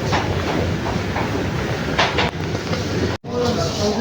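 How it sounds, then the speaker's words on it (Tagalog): Riyadh metro train rolling through a station, a loud steady rumble with rail clatter close by, a sharp brief dropout near the end before the noise resumes. "mag-aabang na tayo ng train dito"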